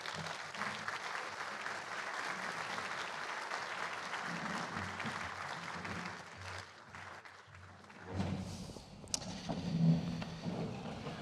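Steady applause from a lecture hall audience welcoming a university president at Ohio State's Patterson Land-Grant Lecture, a dense, even clatter of clapping that carries on for several seconds before thinning out as a voice begins.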